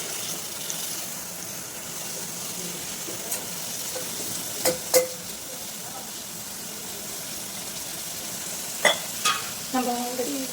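Green peas with green chillies stir-fry in a pan, a steady close sizzle with occasional scraping stirs and clinks of the spoon against the pan.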